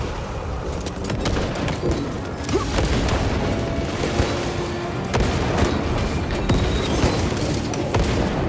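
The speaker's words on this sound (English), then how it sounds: "Throwing a crack grenade." A crack grenade detonates in the Warhammer 40,000 Space Marine II video game amid dense battle noise: dull booms and crackling blasts over a continuous roar of gunfire and mechanical clatter.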